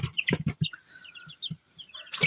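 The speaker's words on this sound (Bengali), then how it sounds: "কিছু ফার্মি মুরগি আছে।" Vaccinated farm chickens with machine-hatched chicks give soft, high peeping chirps in short scattered bursts, mixed with low clucks and light knocks, fairly quiet and close.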